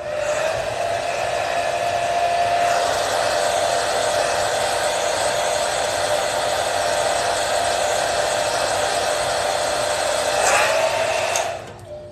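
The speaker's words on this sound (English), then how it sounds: "I'm not gonna talk over the blow dryer" A handheld blow dryer runs continuously on curly hair with a steady, loud, whooshing roar for about eleven seconds before it cuts off near the end.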